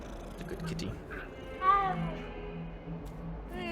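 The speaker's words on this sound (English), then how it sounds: "Ten out of 10 game. We get the pet cats." A petted cat in the Hogwarts Legacy video game meows a few times at moderate loudness, with a soft purr, while a player talks over it.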